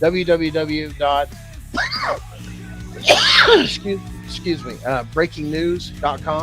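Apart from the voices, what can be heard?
sneeze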